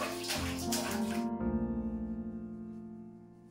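Water poured and splashing as a child bathes himself, a rushing pour that gives way to lighter trickling and dripping, close and fairly quiet.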